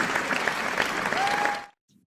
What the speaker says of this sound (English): please welcome with a round of applause Mr. Deepak Goradia